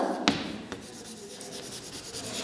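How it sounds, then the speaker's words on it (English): A teacher writing on a classroom board, with steady scratchy strokes and a couple of sharp taps as the marker or chalk meets the surface, close and continuous. "let me write here"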